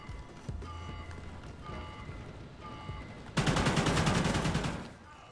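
Burst of automatic gunfire from Call of Duty: Ghosts, a dense loud rattle of rapid shots erupting after quieter footsteps and game ambience, then cutting off near the end.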